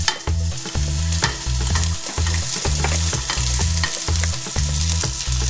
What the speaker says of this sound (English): if you ever put anything into oil and you don't hear it sizzle, you're doing something wrong